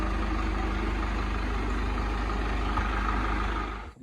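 A Swaraj 744 tractor engine runs in a field with a steady, close, low diesel rumble that holds evenly before cutting off abruptly at the very end.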